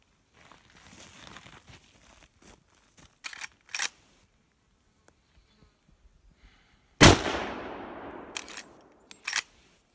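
A Marlin 336C lever-action rifle in .30-30 fires one loud, close shot that rings out and decays over a second or so. Scattered clicks and metallic clunks of lever cycling and handling come before and after it.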